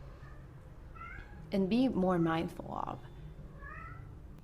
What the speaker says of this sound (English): You will hear a lot of meowing